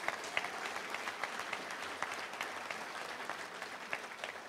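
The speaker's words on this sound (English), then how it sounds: "Let's give a round of applause for Dean Weber, one of the greats." A room of guests at a touchdown club luncheon applauds steadily, a quiet, even patter of many hands clapping from moderately far away with no talk over it.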